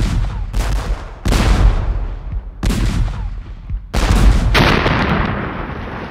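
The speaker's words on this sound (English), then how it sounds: "The artillery was unbelievable." Heavy artillery fire in a Battle of the Bulge wartime setting, loud repeated booming blasts with long rumbling decays, about five big reports in a row, one overlapping into a sustained roar.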